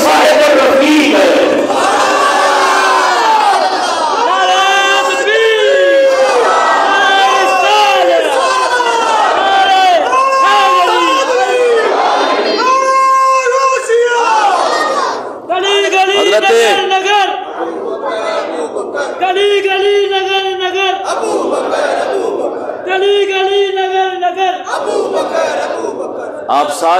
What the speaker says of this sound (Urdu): آپ سارے صدیق اکبر کے چاہنے والے بیٹھے ہیں نا، نعرہ دوبارہ لاؤ